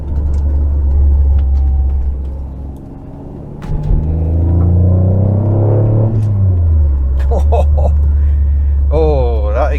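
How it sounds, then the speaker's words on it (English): An Alfa Romeo 164 V6 Cloverleaf drives along a road, its engine and exhaust giving a deep, loud rumble that dips briefly, then swells and shifts pitch as the car accelerates. "Oh, that exhaust really opens up the soundtrack somewhat."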